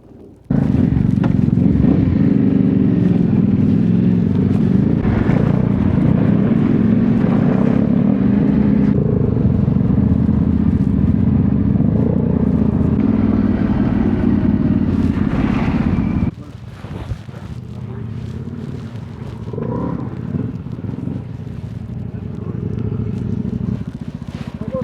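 Kove 450 Rally and 800X Rally adventure motorcycles riding, a loud steady engine drone with heavy wind buffeting on the microphone, dropping to a lower rumble partway through.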